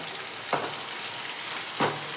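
Tomato frying in a pan for chana dal palya, a steady broadband sizzle throughout with two brief stirring scrapes standing out, close and moderately loud, no voices.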